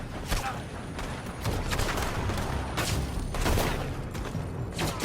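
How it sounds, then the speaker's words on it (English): Western frontier game shootout with enemies firing from a building, sharp gunshots cracking in scattered bursts, some close and loud, others more distant, over a rumbling background. "They're shooting from that building."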